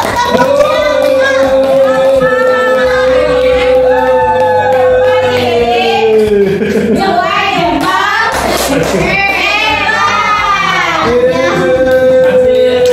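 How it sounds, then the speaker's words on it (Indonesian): A group, apparently children, chants a rhythmic 'tepuk jempol' clapping song loudly and close by, the sung voices carrying steadily with occasional clap-like hits. "kita kasih tepuk jempol dulu"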